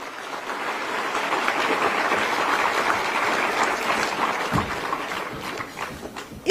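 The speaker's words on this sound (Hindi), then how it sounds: "इन पेड़ों की रक्षा करने वाली इस पूरी टीम के लिए एक बार जोरदार ताली।" Loud, sustained applause from a crowd at an outdoor public event honouring a tree-protection team in Delhi, dense clapping that gradually thins toward the end.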